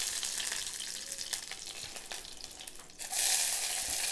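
Dried red chillies and fresh curry leaves sizzle in hot coconut oil, a dense crackling hiss that jumps sharply louder as the leaves hit the pan near the end.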